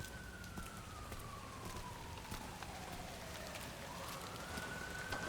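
A wailing siren sweeps slowly down and back up in pitch over steady rain in the video game RE Requiem, distant and continuous with no voices.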